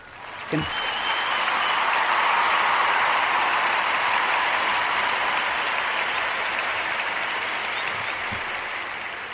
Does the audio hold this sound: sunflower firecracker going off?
no